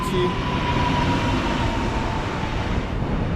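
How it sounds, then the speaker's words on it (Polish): An Impuls electric multiple unit on line S40 passes at Warszawa Toruńska station with a loud, steady, continuous rail rumble and faint whining hum, close and unbroken throughout. "Mamy jedną jednostkę impulsa. Linia S40"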